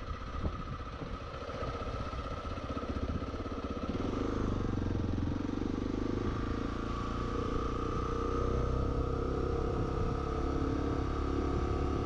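A motorcycle engine drones steadily and loudly with constant wind and road roar while riding along a mountain road in San Luis, Argentina, with no pauses or talk.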